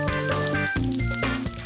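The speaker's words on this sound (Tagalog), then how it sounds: "Para hindi madurog ang hito, ipiprito muna ito." Catfish frying in hot oil for a hito curry, a steady close sizzle and crackle with tonal clatter from a pan or utensil over it.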